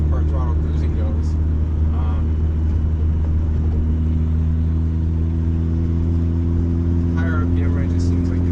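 Turbocharged Honda Accord CD5 engine cruising at part throttle in fifth gear around 3,000 rpm, a steady loud droning hum with constant tone throughout, heard from inside the car.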